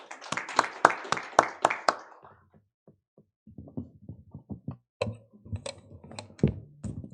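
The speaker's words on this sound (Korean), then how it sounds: "큰 박수 부탁드리겠습니다." A seminar audience at a science and technology policy forum applauds a panelist being introduced, a burst of clapping that fades, pauses, then rises again in scattered, uneven claps from a medium-sized crowd.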